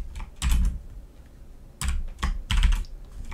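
Bursts of quick keystrokes on a computer keyboard while code is typed, close and crisp, with a short pause between clusters of clicks and no talk.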